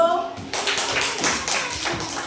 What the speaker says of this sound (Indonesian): kasih tepuk tangan untuk kelompok 2 dulu